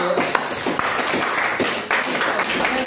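A church congregation applauds during a worship service, steady dense clapping with scattered sharper claps filling the whole stretch, no voices standing out.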